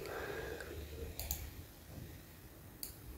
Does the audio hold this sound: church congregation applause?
no